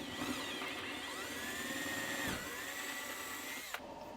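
A power drill unscrews fasteners from a galvanized metal panel on the side of a caravan, a steady close whine with shifting pitch running the whole time, cutting off briefly near the end.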